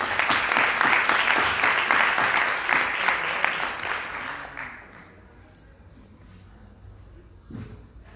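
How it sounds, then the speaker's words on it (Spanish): Audience at a world congress on childhood and adolescence applauds to welcome two speakers, a dense burst of clapping for about five seconds that fades out, followed by quiet room noise and a faint thump. "les vamos a recibir con un aplauso a María y a Laura Lara"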